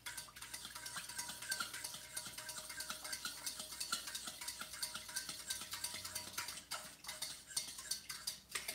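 Gravy for biscuits and gravy is stirred in a pan, a steady run of soft scraping and light clinks of a utensil against the cookware, fairly quiet and with no voices.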